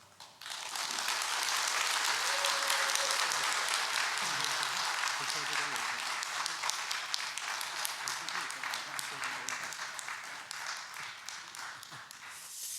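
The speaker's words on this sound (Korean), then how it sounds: "나오실 때 환영의 박수를 하겠습니다." A church congregation at a Korean Sunday afternoon service claps in welcome for a missionary preacher: dense, even applause that starts abruptly, holds steady and slowly thins over about twelve seconds, with a voice faintly underneath.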